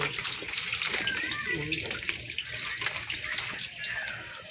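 Water pours steadily into a cooking pot to soften jackfruit, a continuous splashing, rushing flow close by, with a voice talking faintly over it.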